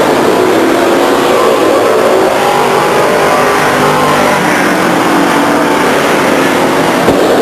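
Stock cars racing at Stockton 99 Speedway, a loud continuous roar of several engines sweeping past close by, with no break in the noise.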